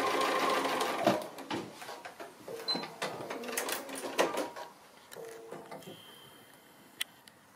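Sewing machine stitching fabric for a long pin cushion, running in short rapid bursts with small clicks and pauses, close and fairly quiet.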